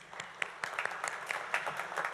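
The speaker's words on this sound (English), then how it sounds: "So we can give everyone a round of applause" Scattered, fairly faint applause from a town hall meeting audience, a loose patter of claps spread evenly over a couple of seconds with no voices on top.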